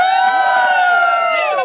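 A crowd at a celebration honouring a member's new car achievement cheers and whoops loudly and steadily, with voices rising in sustained shouts throughout; clapping is not distinctly clear.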